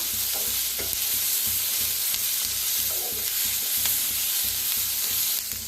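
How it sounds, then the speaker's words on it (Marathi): Onion, green chillies, garlic and ginger fry in a pan with a steady, loud sizzle and occasional stirring scrapes, with no talking. "तर कांदा, हिरव्या मिरच्या, लसूण, अद्रक छान असं भाजलेलं आहे।"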